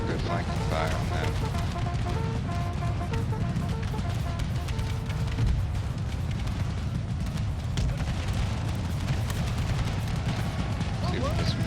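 Musket volleys and artillery fire in the Empire Total War American Civil War mod video game, a dense continuous battle din of overlapping shots and booms, with someone talking over it.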